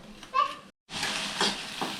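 Steady sizzling of okra frying in a hot pan, broken by a brief silent gap, with faint voices mixed in.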